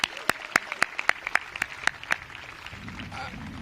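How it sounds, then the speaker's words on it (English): Sparse, scattered clapping from an audience at a ribbon-cutting for a modernized elementary school, a dozen or so distinct claps in an uneven rhythm that thin out and fade into a quiet room murmur. "Please join me in giving our mayor another round of applause"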